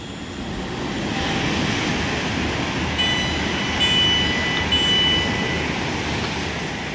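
A train rumbles along the track with steady broadband noise, a few faint high squeals or tones appearing midway, no voices.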